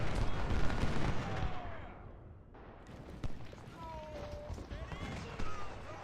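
Artillery and gunfire rumble across a Gettysburg battle in the Civil War strategy game Ultimate General: Civil War, with guns firing on horsemen. Dense booms and crackling shots fill the field and thin out midway before picking up again.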